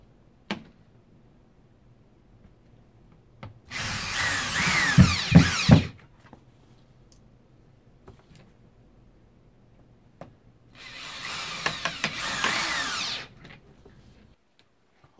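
A power drill drives screws through J-channel for a comic display, two separate close whirring bursts of a few seconds each, with a scattering of small clicks and handling knocks around them.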